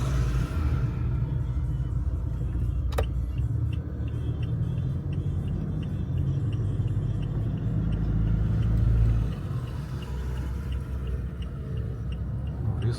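A car rumbles past on a city street near a casino in Angeles City, a sustained loud engine drone that swells and fades, with faint traffic noise around it.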